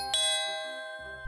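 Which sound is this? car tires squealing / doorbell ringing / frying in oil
doorbell ringing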